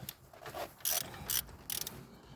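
A socket ratchet turned anticlockwise on the ignition of a 1.3 Hyundai Getz, giving three short bursts of quiet clicking close by against a soft background.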